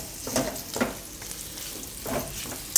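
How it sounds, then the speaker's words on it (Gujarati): Pitted dates roasting in ghee while being stirred, a soft sizzle with a few scraping strokes and a sharper clink near the end, close by, with no talking. "આને આપણે ઠળિયા કાઢેલો જ ખજૂર લીધો છે. થોડીક વાર ઘીમાં એને શેકી લેવું."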